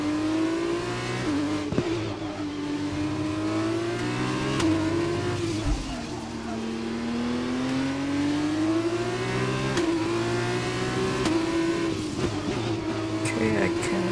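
In the F1 2021 video game, a Formula 1 car's engine wails continuously with rising and falling revs and quick gear shifts, steady and fairly loud, while a person talks over it.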